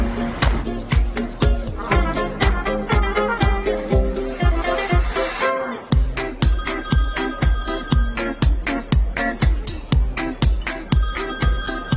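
A telephone ringtone plays continuously in an indoor scene, a loud repeating electronic melody with a steady, regular pulse that keeps going for about twelve seconds.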